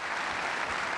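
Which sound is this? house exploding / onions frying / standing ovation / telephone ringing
standing ovation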